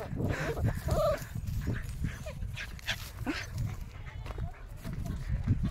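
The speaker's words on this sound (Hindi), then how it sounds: "ये हमारे दो कुत्ते" Two dogs make short whimpers and snuffling noises close by on an outing near Ranikhet, mixed in with ongoing talk and outdoor background noise.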